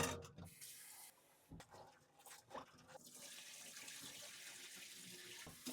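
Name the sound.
washing sorrel petals under running water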